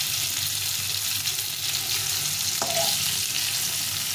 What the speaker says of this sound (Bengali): এইভাবে করে আস্তে আস্তে ভেজে নিতে হবে, উল্টে পাল্টে ভেজে নিতে হবে